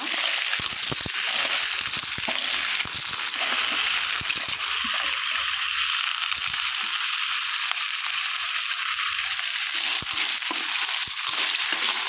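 Clams frying in a pan for Mangalore-style clam sukka, a steady broadband sizzle with brief stirring scrapes and clicks running close and continuous, no talk.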